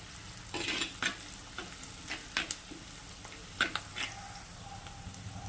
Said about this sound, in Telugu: ఒక 2 మినిట్స్ ఫ్రై అవ్వనిద్దాం